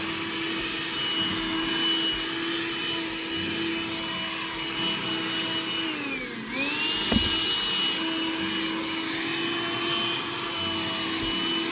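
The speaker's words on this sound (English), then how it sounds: "Alright, it's vacuum time." A vacuum cleaner runs steadily inside a car with a constant whine and airflow hiss, dipping briefly in pitch as the nozzle is blocked midway, then recovering, with a small knock; no talking.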